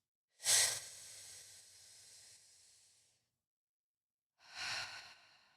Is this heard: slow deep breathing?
yes